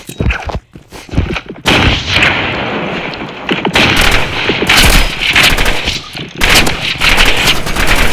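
Rapid bursts of rifle fire from a burst rifle in the Roblox shooter Rivals, loud dense volleys of gunshots that stop briefly and then resume, no talking.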